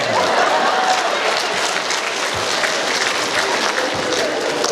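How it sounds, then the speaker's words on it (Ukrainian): An audience at a humorous stage show in Truskavets claps steadily and densely for the whole stretch, a loud, even wash of applause with a faint voice beneath it. "Бач, як аплодірують."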